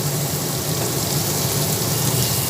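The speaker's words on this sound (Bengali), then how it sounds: "এরপরে পেঁয়াজগুলো ভেজে নিচ্ছি" Chopped onions frying in hot oil in a pan after potatoes and pointed gourd have been fried and lifted out, giving a steady, dense sizzle that holds close and loud without a break.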